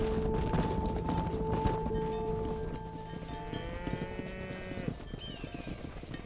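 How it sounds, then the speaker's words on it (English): Cattle herd being driven in the video game Red Dead Redemption, with steady lowing and bleat-like animal calls and clattering hooves over a busy game soundscape of music and ambience. "Keep that herd together now."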